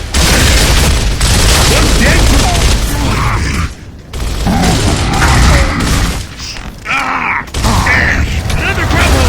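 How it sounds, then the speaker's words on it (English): Gunfire from shooting enemies in Gears of War, dense bursts and booming shots nearly filling the stretch with brief gaps, loud and close. "Hopefully you guys see me shooting these guys in the head"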